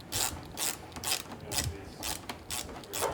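A Torx bit on a ratchet loosening a bolt on a 2024 Harley Low Rider ST, a quick run of close, crisp ratcheting clicks in even bursts, fairly quiet, no talk.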